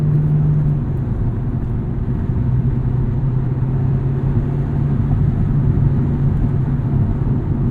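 A 2006 Acura RSX Type-S driving along, its engine giving a steady low drone with rumbling road noise, heard from inside the cabin, loud and continuous, with no one talking.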